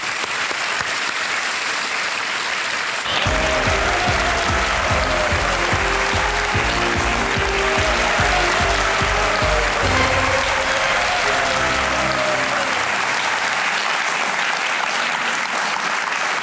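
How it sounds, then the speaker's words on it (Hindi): Studio audience at the KBC quiz show breaks into loud, sustained applause with a music sting playing underneath, fading out near the end. "तालियां बज जाए इनके लिए देवी और सज्जनों"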